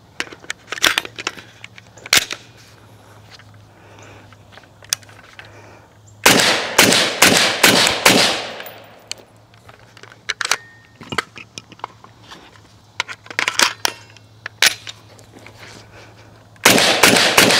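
Shots from a CZ BREN 2 rifle fired outdoors, with a few single sharp cracks early, then a fast string of loud close shots, scattered individual shots after, and another rapid string at the end.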